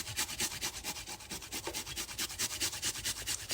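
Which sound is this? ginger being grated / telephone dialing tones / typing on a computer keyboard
ginger being grated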